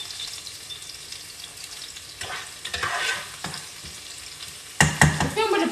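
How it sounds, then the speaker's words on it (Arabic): Garlic and onion fry in a pan, a soft ongoing sizzle broken by a few louder stirring scrapes and clatters, close and without speech. "البصل يا بنوات تقلوا"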